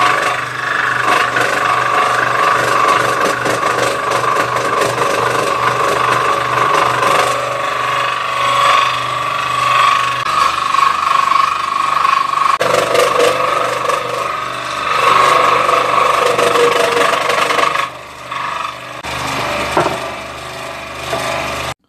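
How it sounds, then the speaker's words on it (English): A scroll saw cuts a small tribal mask out of wood, a loud continuous buzzing rasp with slight shifts in pitch as the blade works along the curves, briefly easing near the end. "So let's get it on the scroll saw and cut it out first."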